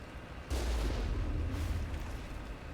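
Main cannon of the Mako vehicle in the Mass Effect video game fires, a loud heavy boom with a rumbling tail, followed by a second blast about a second later, with no talk.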